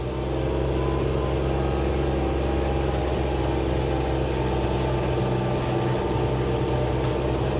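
Kubota RTV900 utility vehicle with a D902 diesel engine, driving in high gear with a constant, close engine drone and rumble that holds steady for the whole stretch, with no speech.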